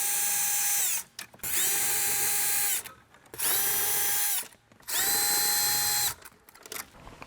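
A power drill works the 10mm bolts inside a 2025 Toyota Camry, whining in three close, loud bursts of about two seconds each, with each burst spinning up and back down between short pauses.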